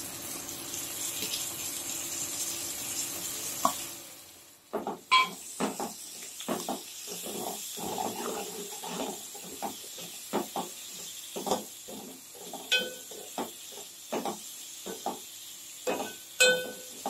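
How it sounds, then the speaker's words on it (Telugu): Dried prawns sizzle in a hot pan for a gongura prawn curry: a soft steady hiss at first, then a series of sharp scraping and clattering stirs over the sizzle, close and fairly quiet. "రొయ్యలు వేసిన తర్వాత కొంచెం సాల్ట్ వేద్దాం, మంచిగా ఫ్రై అవుతాయి"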